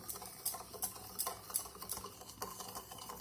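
A hand whisk beats cooled thickened milk and powdered sugar into an eggless Christmas fruit cake batter, clinking against the bowl in a quick steady rhythm of soft taps and scrapes.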